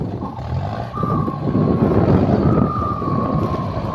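An upgraded turbo, an 88 unit, on a pickup truck engine whistles as a loud, thin whine that rises and holds over a dense, rumbling engine roar close by.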